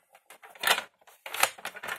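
Scissors cutting a folded paper strip about 2 cm wide, a few close, crisp snipping and rustling bursts in quick succession separated by short pauses; no talk.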